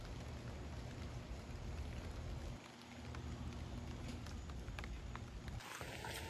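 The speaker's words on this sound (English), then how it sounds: "It started raining a little while ago, and we haven't had no rain in I don't know how long." Steady rain patters down in a continuous broadband hiss, with faint individual drops ticking throughout and no voices.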